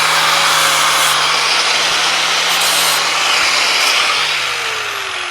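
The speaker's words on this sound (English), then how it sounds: "I'll cut a small chamfer just around the edge." A power tool cutting a small chamfer around the edge of a wooden knee brace at a sawmill, a loud, steady, close high-pitched whine and rasp that runs throughout and eases slightly at the end.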